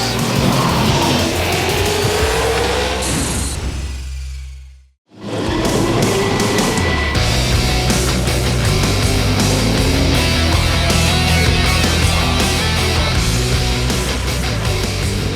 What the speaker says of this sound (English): Dunlop Series cars on the racetrack now